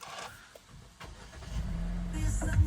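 A 2023-2024 Hyundai Tucson with a 2.0 petrol engine (156 hp, 4WD) is started by push button; after a quiet click the engine catches midway and settles into a rising, steady idle rumble.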